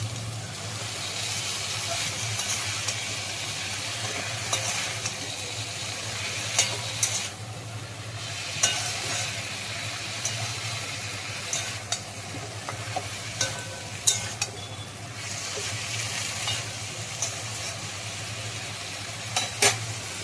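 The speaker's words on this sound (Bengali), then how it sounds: "এইভাবে আস্তে আস্তে ভাজতে থাকবো শাকগুলো।" Leafy greens being stir-fried in a pan for a home lunch, a steady close sizzle with scraping stirs and scattered clicks running throughout under a constant low hum, no talk.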